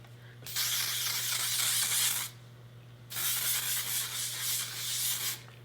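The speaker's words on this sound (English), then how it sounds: "And then we're gonna spray. I use the Aveda Control Force hairspray." Two long bursts of Aveda Control Force hairspray hissing from an aerosol can, close up, separated by a short pause, over a low steady background hum.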